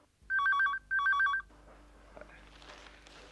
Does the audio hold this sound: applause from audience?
no